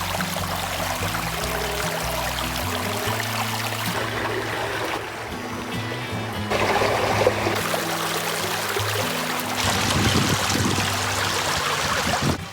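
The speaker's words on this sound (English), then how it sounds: "it looks like the water really rages through here" Creek water rushing steadily past a muddy campsite, a continuous broadband wash with gurgling and pouring textures, fairly close and loud, with brief low rumbles and no voices.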